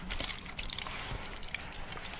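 Brut aftershave is splashed liberally onto neck skin close to a microphone, producing wet slapping and dribbling sounds in irregular bursts, with no talking.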